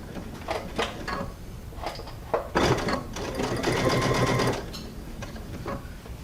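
A sewing machine stitches through quilt batting printed with a quilt-as-you-go pattern, running in several short bursts and then one longer steady run, close and fairly loud, with no talking.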